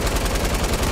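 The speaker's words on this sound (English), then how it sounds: "What are we all shooting at?" Rapid automatic gunfire in a 50v50 Fortnite-style battle royale match, dense overlapping shots crackling continuously and fairly loud with no pauses.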